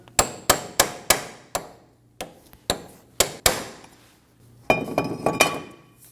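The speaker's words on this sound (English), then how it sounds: "Using a hammer and a punch, we're going to stake our axle nut." A hammer drives a punch to stake an axle nut on a 2008-2015 Scion xB during front steering knuckle replacement: sharp metallic clinks come in a steady series of single blows, pause, then resume in a quicker ringing cluster, close and loud.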